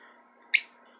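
A pet bird gives a single short, sharp chirp close by, standing out over a faint steady room hum with no talking.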